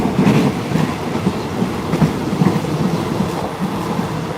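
A passenger train runs on rails, heard from close by as a loud, continuous rumble with a steady clickety-clack of wheels over the joints.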